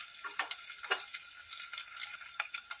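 Small red chillies hitting hot oil, with finely chopped garlic, give a steady close sizzle with brief crackling bursts, no voices.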